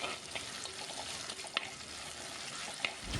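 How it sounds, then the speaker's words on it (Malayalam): Garlic, ginger and green chilli frying for a fish curry, a quiet steady sizzle broken by a couple of sharp scrapes of the spoon as it is stirred, no talking. "ഒരു ചെറിയ കഷ്ണം ഇഞ്ചിയും ചെറുതായിട്ട് അരിഞ്ഞ് വെച്ചിട്ട് അതും ഇതിനകത്തേക്ക് ചേർത്ത് കൊടുത്ത് നന്നായിട്ടൊന്ന് ഇളക്കി യോജിപ്പിക്കാം"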